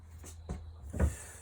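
A drawer in an RV kitchen slides and knocks twice, a soft thud then a firmer one, quiet and close with no talk.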